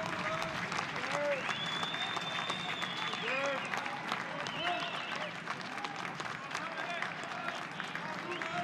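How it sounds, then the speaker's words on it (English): Spectators at a college baseball game between West Virginia and Oklahoma cheer and applaud steadily, a dense, even roar of clapping and crowd noise with occasional whistles rising above it throughout. "Crowd's into it early."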